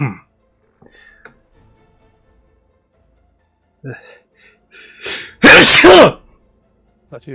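A single loud sneeze bursts out during a tabletop Dungeons & Dragons 5E session, with a few quiet clicks and brief soft voices before and after it.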